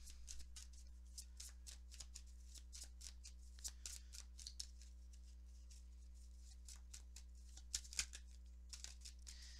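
Tarot cards are shuffled quietly and close up, a string of soft, quick riffling patters repeating in bursts over a faint steady hum.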